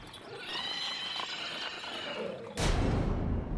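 A tanga cart horse pulls up and stops, with a whinny and hoof clops over rustling ambience, then a sudden loud broadband crash or clatter near the end.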